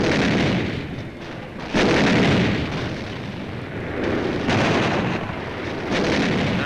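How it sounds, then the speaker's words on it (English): Artillery fire on Iwo Jima, heavy booming blasts rolling into one another in several loud surges with a constant rumbling barrage between them. "We call for artillery."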